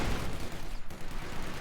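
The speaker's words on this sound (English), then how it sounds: "Max range MG42 volley there" A sustained MG42 machine gun volley from the shooter game The Finals, a dense continuous rattle of rapid shots at long range with no gaps, loud and unbroken.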